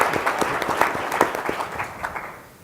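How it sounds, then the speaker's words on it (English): Applause from an audience at an event introduction, a short burst of distinct claps at moderate level that tails off toward the end. "Abbott, give him a round of applause."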